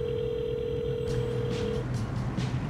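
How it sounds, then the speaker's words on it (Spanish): A steady telephone dial tone hums for about two seconds while a call is placed to a seller about buying a 40-year-old eco car, then cuts off into faint background noise and a few soft clicks. "Voy a hablar por teléfono con Mandy y ver si me lo vende."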